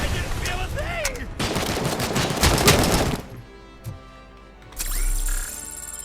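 AK-47 fire from the video game Robocop: Rogue City, dense rapid bursts lasting about two seconds, loud and close, followed by quieter game effects and a brief electronic tone.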